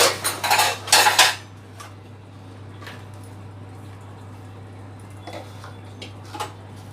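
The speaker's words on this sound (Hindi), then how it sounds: "ये हमने एक बाउल रखा है और एक ये तपेली रखी है" Kitchen utensils clatter: a bowl and a metal pot are set down with a burst of loud clanks and rattles, followed by a few fainter taps against a steady electrical hum.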